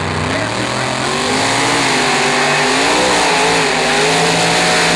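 Chevy-powered monster trucks race at a loud arena show, engines roaring steadily with rising and falling revs throughout, a dense continuous drone with a faint voice underneath.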